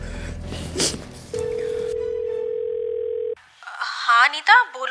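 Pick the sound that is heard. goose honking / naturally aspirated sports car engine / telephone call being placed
telephone call being placed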